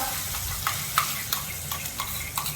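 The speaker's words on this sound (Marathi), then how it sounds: "ह्यात टाकून घेणार आहोत बघा आपण असं आता हे मसाला एकजूट सगळा करून घेणार आहोत तेलामध्ये" Chicken pieces coated in masala paste sizzle steadily in hot oil while a spoon stirs through them, giving soft repeated scraping knocks roughly every half second over the continuous fry.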